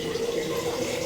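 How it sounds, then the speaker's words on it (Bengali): Cold water poured from a tap or jug into a bottle in a home kitchen, a steady close trickling fill lasting about a second with faint voice traces underneath. "এবার ঠান্ডা জল নেব।"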